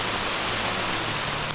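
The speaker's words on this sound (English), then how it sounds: "Well, it's officially raining." Heavy summer rain pouring down in a forest during a canoe trip in Algonquin, a dense, steady, even hiss that fills the whole moment without pause.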